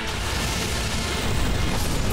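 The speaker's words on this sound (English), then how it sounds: "I didn't know there was a second explosion" A second explosion during an Elden Ring boss fight bursts out as a loud, broadband rumble that swells and holds for about two seconds.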